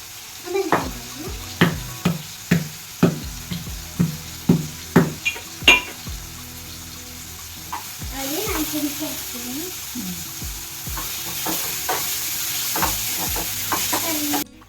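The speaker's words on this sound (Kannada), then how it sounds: "ಈಗ ಆನಿಯನ್ಸ್ ಫ್ರೈ ಆಗಿದೆ." Onions fry in a pan as a spoon taps against it in a regular series of sharp knocks, followed by a steady, close sizzle broken by occasional scrapes.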